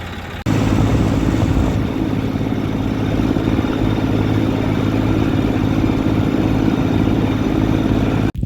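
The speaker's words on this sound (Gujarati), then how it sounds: "તો ચાલો ટ્રેક્ટર લઈને ભાગીએ ઘરે." A farm tractor engine running loud and close, a steady mid-pitched chugging drone that starts abruptly and holds constant before cutting off at the end.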